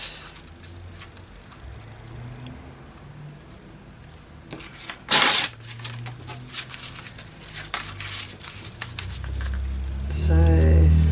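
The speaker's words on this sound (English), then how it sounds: "Let's see if I can just rip a little thin strip down there." Coffee-dyed paper being torn into a thin strip: quiet rustling and handling, one loud sharp rip in the middle, then soft crinkles and a low thump at the end.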